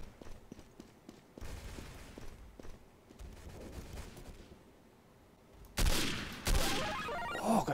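Gunshots in the video game Day of Defeat: Source: scattered distant rifle and machine-gun fire crackling through the first half, then two loud, close shots near the end.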